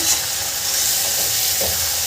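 Chopped radish leaf greens fry in an iron wok with a continuous loud sizzle and hiss, soft stirring scrapes passing through close up, and no talking.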